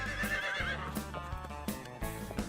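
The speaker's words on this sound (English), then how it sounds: "Wow, horses are amazing animals." A horse neighs in a loud, wavering whinny, with soft hoof clip-clops and background music underneath.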